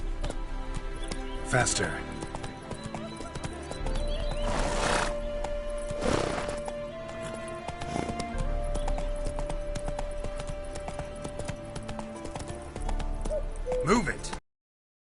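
Horse hooves clip-clop and a horse whinnies while galloping in The Witcher 3: Wild Hunt, with game music and a character's shouted lines mixed in, the neighs rising as brief loud bursts among the steady gallop.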